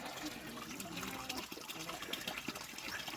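Spring water from a mountain source on Monte Moregallo runs and splashes steadily, a close, continuous broadband gush without pause and no voices over it.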